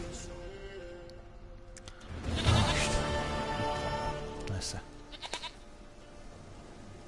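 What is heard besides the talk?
goat bleating in video game The Witcher 3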